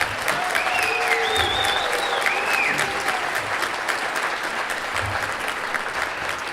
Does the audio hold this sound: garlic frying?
no